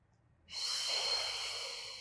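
A single long, forceful exhale through the mouth during a beginner Pilates exercise, breath pushed out steadily after a short quiet start, close and alone.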